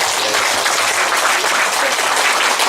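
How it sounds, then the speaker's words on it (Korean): Loud, dense applause from an audience at an environmental volunteer award ceremony and general assembly, honoring board directors; continuous close clapping throughout without a break. "우리 그분께 큰 박수 한번 보내주시다"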